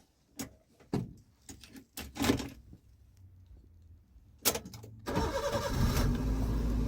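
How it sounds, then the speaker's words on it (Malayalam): A Maruti Suzuki Ritz hatchback is cranked and fires up, its engine catching with a burst and settling into a steady idle after a few sharp clicks and knocks, close and fairly loud with no talking. "നമുക്കിനി അത് സ്റ്റാർട്ട് ചെയ്ത് നോക്കാം കേട്ടോ."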